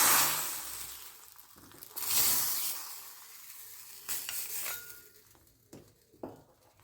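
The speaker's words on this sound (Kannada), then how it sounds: "ಕೊಬ್ಬರಿ ಎಣ್ಣೆ ಹಾಕಿದ್ದೀನಿ ಸಾಸಿವೆ ಸ್ವಲ್ಪ ಜೀರಿಗೆ ಮತ್ತು ಒಂದು ಮೆಣಸು ಒಂದು ಚಿಟಿಕೆ ಇಂಗು ಹಾಕಿಬಿಟ್ಟು ಒಗ್ಗರಣೆಯನ್ನು ಹಾಕ್ತಾಯಿದ್ದೀನಿ" Tempering of mustard seeds, cumin, pepper and a pinch of asafoetida in hot coconut oil: a loud crackling sizzle at first that gradually settles, broken by spoon-stirring scrapes and light clinks against the pan.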